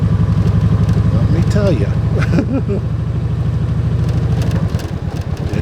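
A street motorcycle rides a rough, rustic rural road, its engine a steady, loud, close drone with rhythmic pulsing throughout, while someone talks over it.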